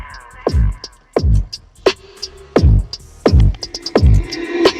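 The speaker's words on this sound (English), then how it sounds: "So that sound is courtesy of a 12-speaker Bose audio system with" Music thumps out of the 12-speaker, 295-watt Bose audio system inside a Mazda CX-9, loud and close, driven by a steady run of heavy bass kicks with bright tones on top.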